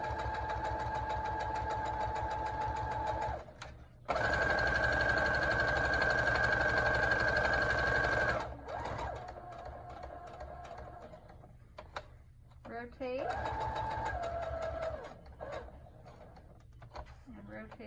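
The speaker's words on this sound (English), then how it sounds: "bring it to the sewing machine, and we're going to stitch around the edges" A sewing machine stitches around the edges of a fabric filter face mask, its motor whirring steadily in three runs of several seconds each, separated by short pauses.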